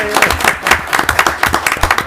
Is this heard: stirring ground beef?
no